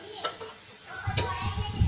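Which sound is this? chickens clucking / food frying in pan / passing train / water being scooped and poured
food frying in pan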